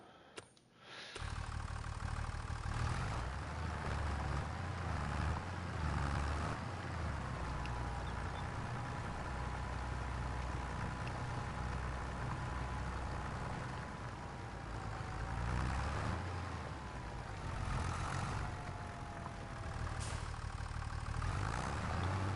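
A tractor engine idles in Farming Simulator 25 with a plow attached, giving a steady, continuous mid-pitched rumble that holds at an even level throughout, with no talk.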